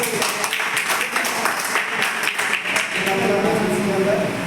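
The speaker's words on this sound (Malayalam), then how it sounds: "നമ്മുടെ ഈ സാറിനെ നമ്മൾ ഒരു നല്ലൊരു കൈയടി നല്ല ശക്തി" An audience claps for a speaker at a gathering, a dense patter of many hands that carries on steadily for several seconds, moderately loud, with a voice speaking partway through.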